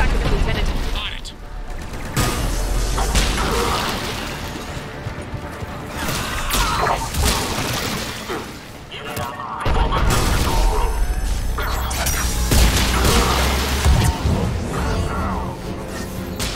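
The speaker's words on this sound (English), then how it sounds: "The cannon fire is clearing the way." Heavy cannon blasts boom and crash repeatedly in Mass Effect 3 game audio, with rumbling impacts and mechanical noise filling the whole stretch.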